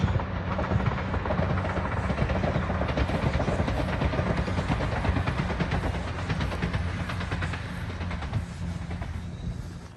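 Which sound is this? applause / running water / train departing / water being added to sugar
train departing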